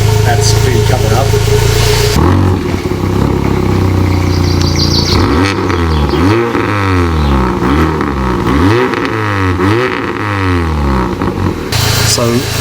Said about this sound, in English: that's the repaired exhaust running, so the hole just there, a little hole just there, that's pretty covered up